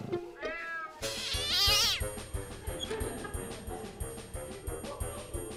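A cat in a mouse-and-cat video game gives a loud, close, rising and falling meow, backed by a steady pulsing game beat and synth tones.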